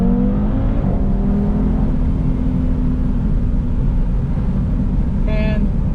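A 2019 Audi TT RS engine pulls hard under acceleration, a loud steady roar with rising harmonic tones, close and continuous throughout.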